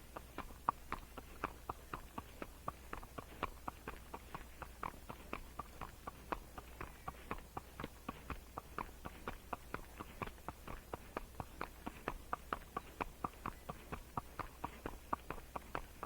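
Steady clip-clop of a Tennessee Walking Horse's hooves walking at an even rhythm, sharp and fairly close, continuing throughout with no talking.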